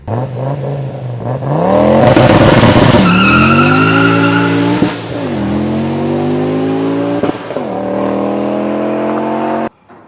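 A loud turbocharged car engine revs hard through rising gear pulls while tires squeal and skid on tarmac, the turbo whine climbing and dropping with each shift.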